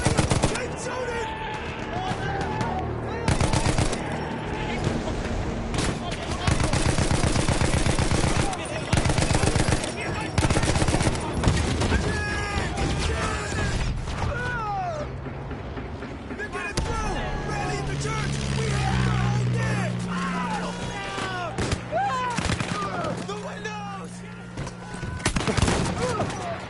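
Battlefield 1 machine guns hammer in long loud rapid bursts, close and sustained, mixed with battlefield explosions while soldiers shout over the din.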